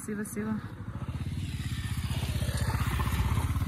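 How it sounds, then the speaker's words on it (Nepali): Motorbikes ride along a rough, foggy hill road near a lake, their engines giving a steady, rising putter that grows louder through the clip, with a brief voice at the start. "यस्तो अप्ठ्यारो बाटोमा पनि बाइकहरू कुदाउँछन्"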